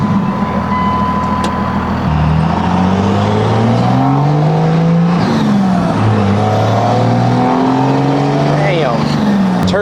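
A diesel pickup with a 5-inch turbo-back exhaust accelerates hard, its loud engine note climbing through several rising gear pulls with brief dips between shifts, heard from inside the cab.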